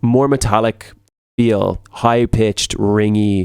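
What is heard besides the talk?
No distinct noise like a dog, phone or traffic.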